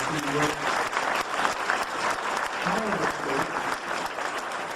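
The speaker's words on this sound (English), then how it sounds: "Please everybody give her applause" A gala audience keeps up loud, continuous applause for the foundation's executive director, with voices and chatter mixed into the clapping.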